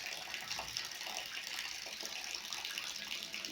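Rainwater streaming along a village stream during heavy rain, a continuous rushing, gushing flow at steady moderate level with no pauses or voices.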